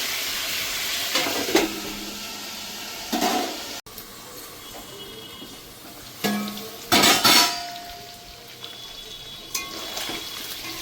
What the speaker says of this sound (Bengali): তো এটাকে একটু ভালো করে আমি ভেজে নেব।